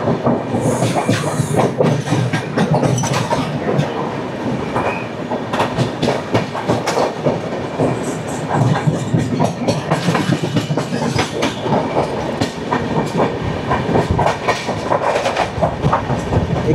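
The Mysore Howrah Superfast Express runs on rails between Rajahmundry and Visakhapatnam, giving a loud, continuous rolling roar with rhythmic clickety-clack from the wheels and brief high squeals, with no talk.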